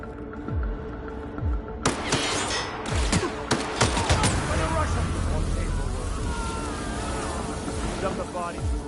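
Gunfire in a space video game, several sharp shots and bursts of fire over a busy mechanical hum, with voices shouting and talking throughout.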